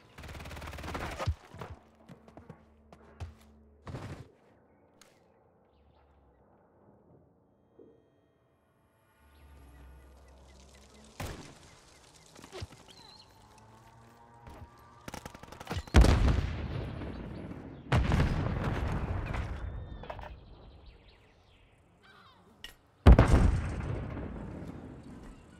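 Call of Duty: Modern Warfare 3 hardcore match with scattered gunfire and a flashbang grenade, sharp loud bursts standing out around the middle and end among quieter game noise and brief speech.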